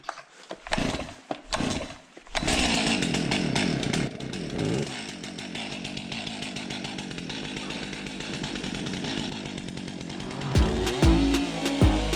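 A petrol chainsaw cutting firewood on a farm starts with a few sharp pulls and catches, then drones steadily and loudly as it saws through the wood, with the pitch shifting as the load changes.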